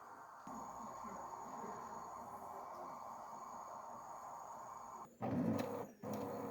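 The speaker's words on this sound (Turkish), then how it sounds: "Yazıcı bu şekilde sesler gelir. Gelmesi gayet normal." A quiet mechanical whir hums steadily from a Brother DCP-T300 inkjet printer during head cleaning, then shifts to a louder grinding buzz with short stops and restarts near the end.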